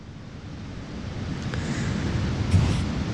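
Ocean waves roll onto a beach in a soft, steady wash that gradually swells louder, mixed with light wind noise at the microphone.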